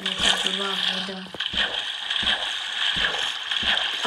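Water splashing in a parkour video game: soft, repeated splashes and sloshes against steady tonal background sound.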